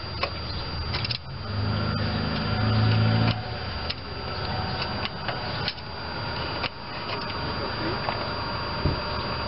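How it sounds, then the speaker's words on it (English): A U.S. mail truck with a cheap muffler, idling and pulling away in the background, gives a low rumbling drone that swells early, under ongoing garage clicks and clanks and a person speaking nearby. "that is a U.S. mail truck in the background. The unmistakable cheap muffler they all use"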